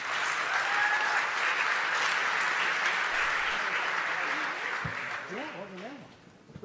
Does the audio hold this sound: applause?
yes